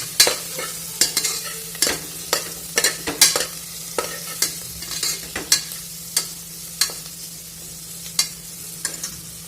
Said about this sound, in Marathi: थोडं मिक्स करून द्या.